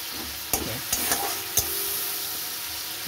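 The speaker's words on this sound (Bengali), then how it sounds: "এবার আমি এগুলোকে ভালো করে মিশিয়ে নেব। লঙ্কা, হলুদ, টমেটো" Chili, turmeric and tomato spices with a splash of water being stirred in a pan, a low wet sizzle under a few sharp spoon knocks and scrapes, close and short with no voices.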